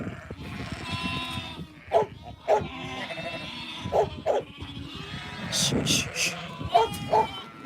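Australian meat-breed sheep bleat repeatedly on a farm, short calls rising over a busy mix of animal noise and shuffling, with voices talking throughout.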